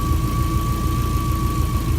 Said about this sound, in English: It's a lot quieter. Idling really nicely. 700 RPM right now.